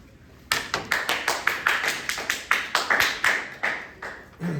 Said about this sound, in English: I'll soundtrack in more applause.